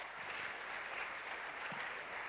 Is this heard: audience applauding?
yes